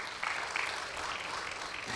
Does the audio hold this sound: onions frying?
no